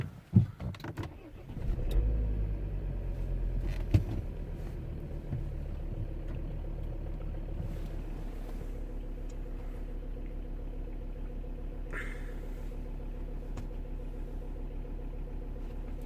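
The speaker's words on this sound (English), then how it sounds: "we're gonna start the car" A Volvo V70 D3 2.0 diesel cranks and catches, then settles into a steady, even idle. The engine sounds close, with a brief clatter at startup and a faint higher whine later in the idle.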